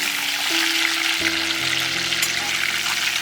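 Crab pieces fry in hot oil in a home kitchen, giving a steady, close sizzle that continues evenly for a few seconds without any talking.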